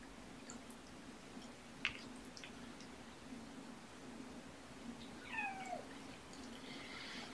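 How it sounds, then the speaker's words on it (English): A faint, steady low purr runs throughout, with a couple of soft chirping meows toward the end. "Some strong purrs on cam too."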